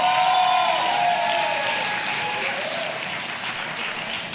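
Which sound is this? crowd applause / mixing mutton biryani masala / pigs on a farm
crowd applause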